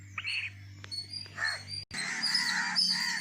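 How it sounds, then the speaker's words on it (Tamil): Several crows caw overhead in short, harsh calls, a few seconds apart, over a low steady hum. A denser burst of calling and noise follows partway through. "இதோட ஃபேமிலி எல்லாம் வந்து கத்துது மேலே இந்த காக்கா ரெடியாக இருக்கு"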